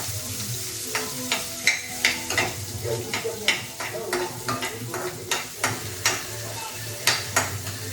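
Onions fry in hot oil in a pan while being browned, a continuous close sizzle punctuated by a regular series of spatula scrapes and knocks against the pan, with no speech.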